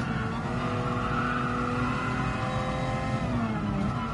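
A steady, droning car engine in a racing video game, apparently a 1950s car on a track, holds one unchanging note with light wind noise over it, continuous and close throughout.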